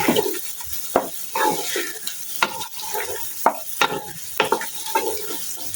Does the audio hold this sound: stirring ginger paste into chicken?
yes